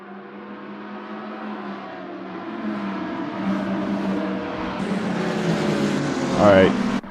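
A pack of 29 race cars at the Sebring start in Gran Turismo racing, layered engine drones rising in pitch as they accelerate, with a sharp whining rev sweep near the end and commentary throughout.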